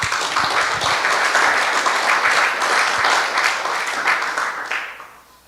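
A church congregation breaks into sustained applause, dense and fairly loud for several seconds before tapering off at the end.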